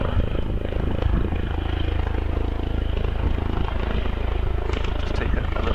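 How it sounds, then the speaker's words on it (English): A helicopter flies over a vintage car hillclimb at Wiscombe Park, its rotor a steady, rumbling beat that stays fairly loud and constant throughout. "we were being overpowered a little bit by the sounds of the helicopter"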